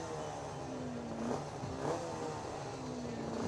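A Suzuki 250 racing motorcycle at a road race holds a steady, even rev, its engine note droning continuously and fairly close, with a couple of slight swells in pitch.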